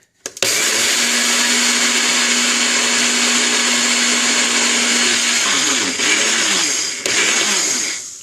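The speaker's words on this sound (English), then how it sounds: "So you just stick it in the blender." A Nutribullet 600 series blender pulses flaxseed loudly and steadily, close up, with its pitch shifting near the end as the contents are spun.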